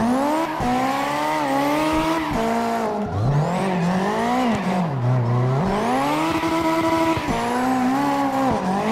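A Nissan S15 drifts in CarX Drift Racing Online: a loud engine revs and sags in pitch throughout, with tire squeal as the car slides, and no talking.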